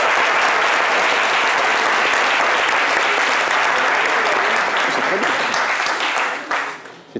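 Sustained, loud audience applause filling the room, dense and even throughout before trailing off at the very end.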